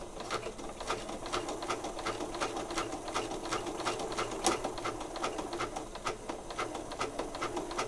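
A sewing machine stitches through glued double-sided paper in a steady, rapid mechanical ticking that runs the whole time, fairly quiet and close, with no talk over it.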